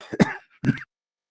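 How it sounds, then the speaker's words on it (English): Two short, sharp coughs in quick succession, close and clear, followed by silence. "Yeah, just some coughs."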